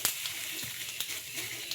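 Cumin seeds tempering in a small amount of hot oil in a kadai, with a faint, steady sizzle and a few soft crackles throughout.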